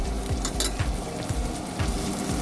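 Coarse red chili and garlic paste frying in a pan for a button mushroom dish: a soft continuous sizzle broken by a few regular scraping stirs, close by, with no voices.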